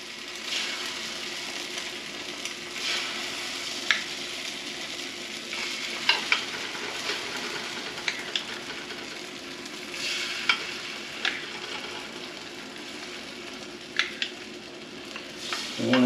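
An egg omelette mixture mixed with dry ingredients fries in a hot pan, giving a steady broadband sizzle with occasional soft clicks and scrapes as it is spread around, close and without talk.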